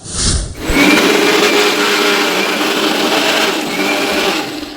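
An electric mixer grinds spices for cooking meat, whirring loudly and continuously after a brief start, a steady high-pitched motor drone with gritty rattling throughout.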